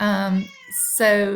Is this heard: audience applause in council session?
no